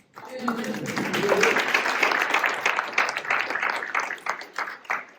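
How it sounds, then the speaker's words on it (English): An audience at a clean energy event in Oak Park claps for several seconds in a dense, sustained round of applause that fades toward the end, with voices mixed in. "So you all deserve a round of applause."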